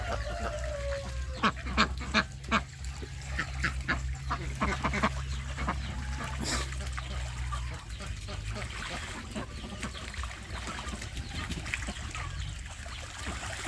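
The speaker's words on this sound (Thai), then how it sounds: "นี่นี่คือเสียงตัวเมียเลยล่ะครับ ขอสักก้าบหน่อยเร็ว ตัวเมียนะครับ" A female duck quacks up close in a series of loud, harsh calls, bunched mostly in the first half, amid other fowl noise.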